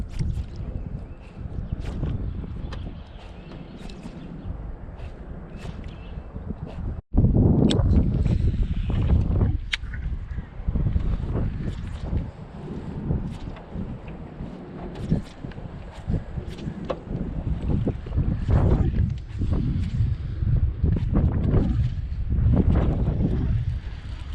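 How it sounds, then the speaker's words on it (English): Strong wind buffets and roars across the microphone out on a lake during spring bass fishing, gusting continuously with rumbling bursts and a boat's water noise underneath. "We were getting blown out here from the wind."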